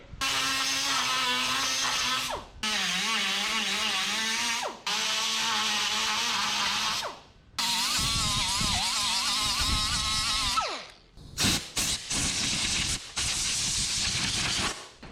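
A carbide-tipped power tool cleans a weld on the cowl of a 1967 Toyota Stout body, whining loudly in several long bursts with brief pauses between them, then ending in a few short, choppy runs.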